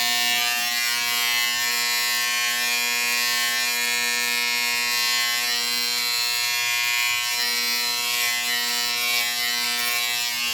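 An electric hair clipper cutting someone's own hair gives off a loud, steady buzzing drone with a bright harmonic whine that holds unbroken throughout, with no talking.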